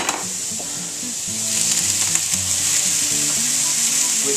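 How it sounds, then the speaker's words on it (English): Meat browning in a hot frying pan gives off a loud, continuous sizzle with occasional stirring scrapes, and faint tonal music plays softly underneath. "The next thing you're going to want to do is brown your meat"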